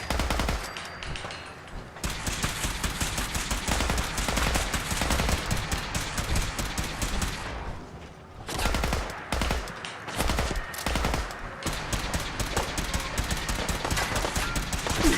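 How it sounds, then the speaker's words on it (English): Dense, rapid automatic gunfire from enemies in the video game Fallout 4 rattles almost without pause for about fifteen seconds, loud and close, with only brief gaps between long bursts. "I think we're being shot."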